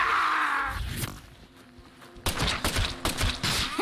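Gunfire in the game Deadly Premonition 2 comes as a rapid series of loud, punchy shots in the second half. A whooshing sound and quieter game noise come before the shots.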